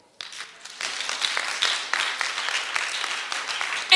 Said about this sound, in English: Can we clap for that?